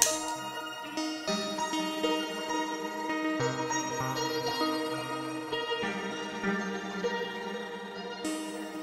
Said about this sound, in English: Then finally some shimmer reverb.